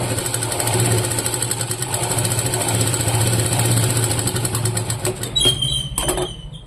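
Kurti fabric is stitched on a sewing machine, giving a loud, close, steady motor whir with rapid needle rhythm that roughens and sputters near the end.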